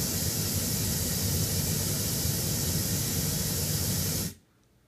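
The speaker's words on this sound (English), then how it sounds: "Stop this white pink noise." Loud, steady broadband pink noise test signal hisses evenly for several seconds, then cuts off abruptly to near silence.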